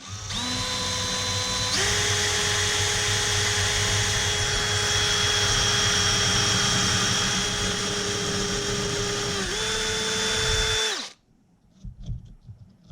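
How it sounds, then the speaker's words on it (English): A power drill boring into plastic whines loudly and steadily for about eleven seconds, its pitch dipping slightly as it bites, then cuts off into near silence with faint clatter. "So you're not drilling too fast."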